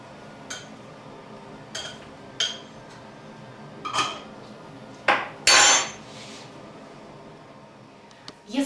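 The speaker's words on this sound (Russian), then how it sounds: "помешивать воду, надавливая на пакетики." A spoon stirs water in a glass jar holding herbal tea bags, pressing on them as the infusion steeps. Sparse, separate clinks and knocks are heard close up, with a louder pair near the end.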